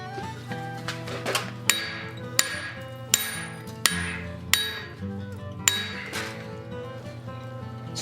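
Metal pin for a fireplace crane being forged: sharp ringing hammer blows on hot steel, about seven strikes spaced roughly evenly with metallic ring decaying between them, close and clear with no voices.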